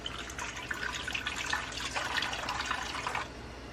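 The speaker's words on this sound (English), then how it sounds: "This is 1 2/3 of warm water." Warm water poured from a container into instant yeast for bread dough, a steady close splashing trickle running for about three seconds before stopping, with no talk.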